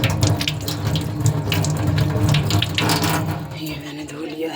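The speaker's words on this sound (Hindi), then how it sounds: "यहाँ पे देखिए, ये नलका देखिए, यहाँ पे एक ही आड़ू धोती हूँ मैं" A yellow peach is rinsed under a running kitchen tap, giving a steady close splash of water that holds throughout with no pauses.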